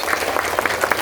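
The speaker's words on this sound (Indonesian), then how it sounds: "Tepuk tangan untuk kita semua" Children and teachers at a primary school religious celebration give a short, dense round of applause, steady and moderately loud, with faint voices underneath.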